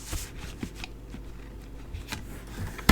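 Paper card is cut while making a sketch card: soft scraping and snipping ticks scattered across the moment, fairly close and quiet, ending in a sharper, louder crunch of the final cut.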